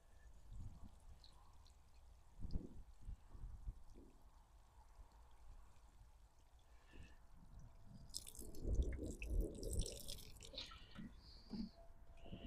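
Water pours from a watering can onto a dehydrated Dahlia Starburst plant in a vegetable garden, a soft trickle building into a heavier, closer splashing pour toward the end, with no voices.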